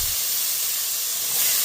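Finely chopped potatoes hit hot oil with cumin and peanuts for sabudana khichdi, giving a loud, steady, close hiss of sizzling that swells slightly toward the end, with no voices.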